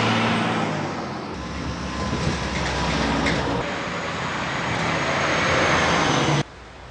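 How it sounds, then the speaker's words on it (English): Gravel trucks roaring past along a rural valley highway, a loud sustained engine and tire rush building and holding before cutting off abruptly near the end. "And gravel trucks screamed around."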